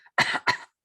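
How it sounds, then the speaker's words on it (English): Two quick, close coughs in rapid succession, then silence. "I want you to cover your mouth when you cough."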